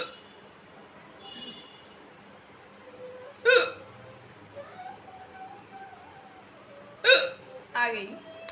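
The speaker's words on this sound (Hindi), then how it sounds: "आ गई हिचकी।" A woman gives two sharp hiccups several seconds apart, followed by a third quicker catch, each loud and close against a quiet room.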